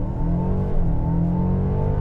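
A 2021 Mercedes-Benz GLB 250 4Matic, not an AMG, launches from a brake-torque hold at about 2200 rpm, its engine droning loud and steady as it pulls hard under automatic shifting, with no talk.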